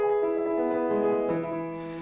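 A piano plays triplet figuration from a Beethoven sonata, Op. 2 No. 2, shared between both hands: a brief, clear run of sustained ringing notes with no talk.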